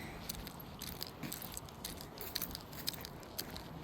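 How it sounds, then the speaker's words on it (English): Soft, continuous rustling and crinkling of a bag carried while hiking, with small clicks and jingles scattered throughout, close to the microphone and with no talking. "if you hear rustling, that's just my bag. It's a little loud."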